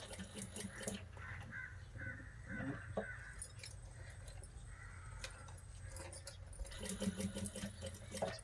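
A sewing machine stitches a lace blouse, its quiet rapid whirring running in short bursts close by, with faint clicks and handling noises between runs.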